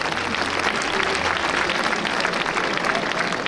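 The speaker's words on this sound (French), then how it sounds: "on peut les applaudir bien fort" Crowd at a course camarguaise final in Vauvert applauding prize winners, dense steady clapping from many hands throughout, fairly distant and even, with no talk over it.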